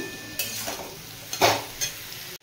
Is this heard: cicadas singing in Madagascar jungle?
no